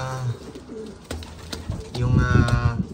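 Racing pigeon cooing at close range, soft repeated throaty coos, with someone talking over it and rustling in the background.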